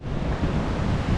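Ocean surf on a beach in Costa Rica's Manuel Antonio Park washes in as a broad, steady rushing roar, mixed with wind buffeting the microphone, with no voices.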